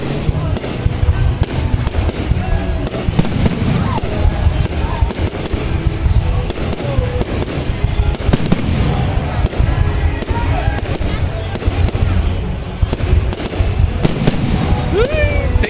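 Fireworks burst continuously over a New Year 2020 celebration in Yen Phong, Bac Ninh, Vietnam, a dense stream of loud pops and crackles with voices chattering throughout.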